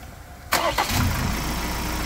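A Ford Ranger T9 with a 2.0 twin-turbo diesel engine is started on a new compact battery: a short crank at about half a second catches quickly and settles into a steady, close idle.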